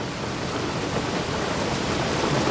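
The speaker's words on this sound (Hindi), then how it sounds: "लेकिन बाहर बारिश हो रही है।" Steady, heavy rain falls outside, making a dense, even hiss with no voices over it.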